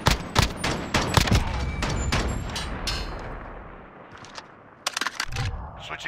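Gunfire in a first-person shooter search-and-destroy match, with loud clustered bursts of shots up front, a quieter lull, then another rapid burst near the end, faint voices underneath.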